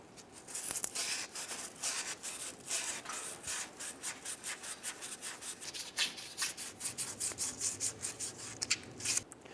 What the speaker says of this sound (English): we're going to move on to the inside and clean this inner rim